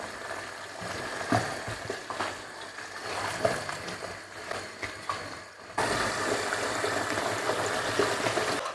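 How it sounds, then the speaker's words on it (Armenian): Food fries in a pan with a steady sizzle and hiss, softer at first with a few clinks, then louder and denser in the last few seconds. "մի քանի րոպե թող տապակվի"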